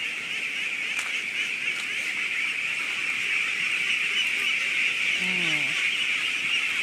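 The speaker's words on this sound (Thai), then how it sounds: "เลี้ยงเป็ดสองหมื่น ตัวสีขาวเนี่ยเขาเอามานำฝูงนะคะ" A large flock of about twenty thousand laying ducks, with white ducks leading, makes a dense, continuous chorus of quacking and chatter, with a louder honking call standing out near the end.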